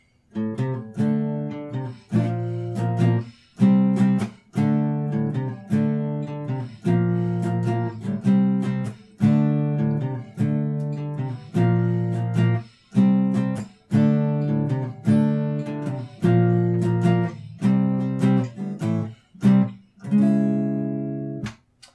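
An acoustic guitar plays an intro riff, a steady rhythmic pattern of strummed and picked chords repeating over about twenty seconds, loud and close with no voices.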